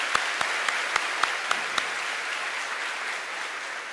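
At a 2021 high school graduation ceremony at Rocky Mount High School, an audience applauds in a steady, moderately distant patter, with several sharp, louder claps standing out near the start before fading into even clapping.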